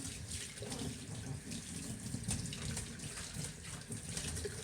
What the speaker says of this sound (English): now we're going to go ahead and rinse them off